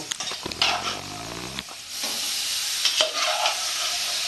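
Chickpeas tipped into a pan of frying mutton keema and potatoes make a brief clattering scrape, then a steady sizzle and stirring carry on, close and moderately loud.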